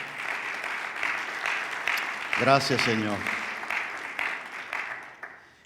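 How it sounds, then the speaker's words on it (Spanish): Steady applause from a large crowd fills the whole stretch, with a voice speaking briefly over the clapping. "¿Puedes darle un aplauso de alabanza a Él?"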